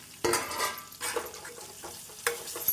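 Onions sautéing with roasted moong dal in a pan for chow chow poriyal, a sizzle under loud spoon scrapes and clanks, with a couple of strong stirring strokes and lighter rattles between them.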